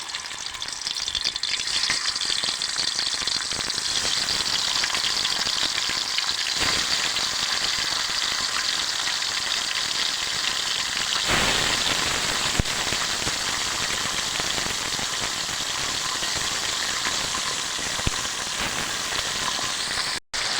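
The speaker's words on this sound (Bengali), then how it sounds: "এখন মাছগুলো তেলে ভাজিয়ে লমু।" Mixed fish fry in hot oil with a dense, steady crackling sizzle like heavy rain, loud and continuous for about twenty seconds with a few brief pops and no talking.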